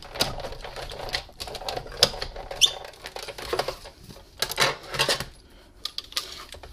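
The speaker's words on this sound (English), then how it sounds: "go ahead and put the second cutting plate on top, and then you can run these through the Big Shot" A Big Shot die-cutting machine cranks cutting plates through for paper ornaments, a close series of rapid clicking, ratcheting rattles in irregular bursts with brief pauses, no voices.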